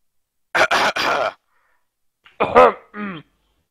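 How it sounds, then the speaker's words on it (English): A few awkward throat-clearing coughs and grunts from a nearby person during a League of Legends match broadcast, two short clusters separated by a pause of silence. "Awkward coughs."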